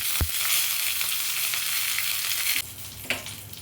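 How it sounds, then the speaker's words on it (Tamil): Vadagam tempering frying in a tablespoon of oil in a kadai for a ridge gourd kadayal, a steady broadband sizzle with a sharp clatter near the start and another stir knock later, no voices. "கடாயில் 1 டேபிள் ஸ்பூன் எண்ணெய் சேர்த்து வடகம் சேர்த்தா நல்லாயிருக்கும்"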